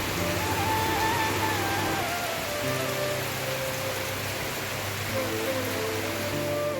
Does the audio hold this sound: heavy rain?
yes